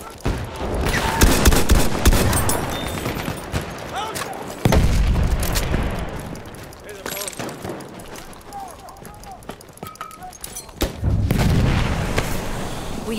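Battlefield 1 match with booming explosions and bursts of gunfire, including rattling machine gun fire, rolling loudly throughout under shouted voices.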